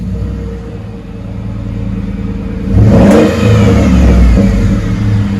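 A 2014 Ford F-150 with the 5.0L Coyote V8 and dual Flowmaster 40 Series exhaust idles with a deep rumble, then revs hard at about the three-second mark and holds a loud, close growl before settling, with no talking.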